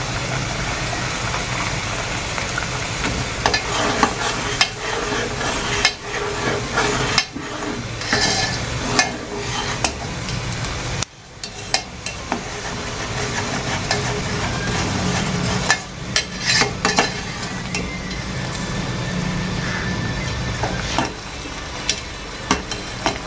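Onion masala for a goat brain fry sizzles in a pan while a spoon repeatedly scrapes and stirs it, a continuous close frying hiss with a brief break midway.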